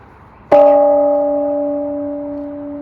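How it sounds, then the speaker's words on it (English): A peace bell is struck once at a ceremony, giving a loud, sharp clang that settles into a clear, sustained ring fading slowly, with no voices over it. "I'd like to invite you now to ring the peace bell."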